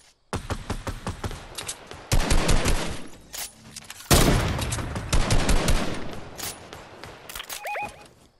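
Rapid gunfire crackles in a Fortnite match: dense rattling volleys and sharp single shots, loud and close, surging in waves with short pauses between and no talk.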